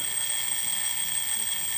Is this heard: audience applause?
no